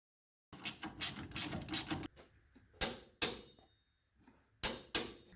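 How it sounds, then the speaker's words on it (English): Turning the steering wheel of a 1987-91 Ford F-150 brings a rapid run of mechanical clicks and clunks, followed by a few sharp isolated knocks with quiet between them. "I need to turn the steering wheel to face the bolt upwards."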